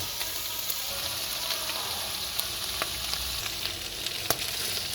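Onion, garlic and green beans fry in a pot with venison for a Turkish vegetable stew, a dense close sizzle and crackle with light stirring clicks throughout, no talking.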